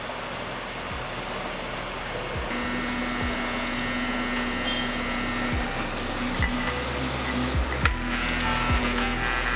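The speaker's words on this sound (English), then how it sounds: "As you see the air blowing towards the side and creating a ring of air" Hoverball fan blowing air outward in a ring: a steady, close whirring hum with a constant airy hiss, broken by faint irregular knocks and clicks.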